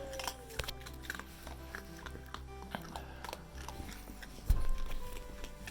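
A pet crunching on treats, with faint, irregular bites and chewing crunches close by and a louder knock near the end.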